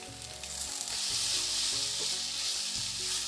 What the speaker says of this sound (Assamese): 2 মিনিটমান ভজাৰ পিছত এতিয়া শাকখিনি দি লওঁ